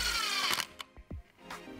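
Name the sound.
power drill driving screws into a rat trap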